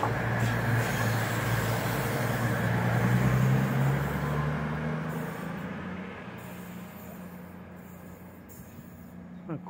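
A train rumbles past nearby on a railway running beside the canal at Stone, its low droning roar strongest early on and then gradually fading into the distance.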